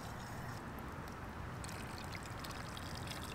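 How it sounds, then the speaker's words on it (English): Casting mixture pouring into a keepsake hand mold, a soft, steady trickling and gurgling stream over a low background rumble. Quiet and continuous, with no talk. "So when you pour it in, it says to move it around so that it gets in all of the crevices"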